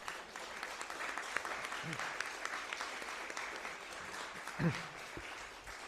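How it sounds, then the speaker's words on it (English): Faint, steady applause from a church congregation for fellow speakers, an even patter of clapping with a couple of brief voice sounds rising over it. "can we have a quick round of applause for our other speakers?"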